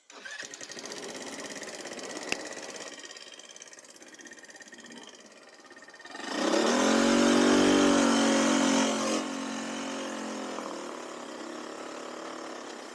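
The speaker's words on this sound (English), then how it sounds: "Well, it seems to rev up again." The engine of a cheap 300 dollar buggy idles with a steady drone, then revs hard into a loud rising roar midway before settling back to a lower, steady run, all close by.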